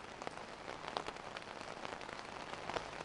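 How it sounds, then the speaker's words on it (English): Rain falls outside in Lebanon, a soft continuous patter of drops on surfaces with scattered brighter taps, distant and fairly quiet, with no voices. "Outside, the rain has started"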